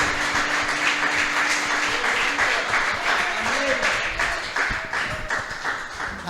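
Church congregation at a Portuguese-language service applauding steadily, a dense continuous clapping close by with voices mixed in.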